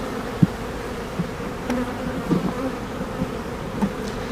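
Honeybees buzz densely around an opened hive, a close, continuous hum with a few soft knocks and handling bumps from the frames and no voices.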